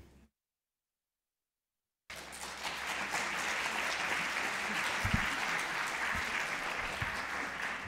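Audience applause at a medical imaging and AI conference session, a dense, steady wash of many hands clapping that starts abruptly after a brief silence and continues evenly to the end, with a few sharper louder claps standing out.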